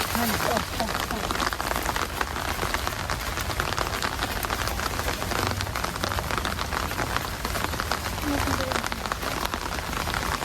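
Heavy rain drumming steadily and densely on surfaces in a forest, a constant loud wash of drops with faint voices underneath.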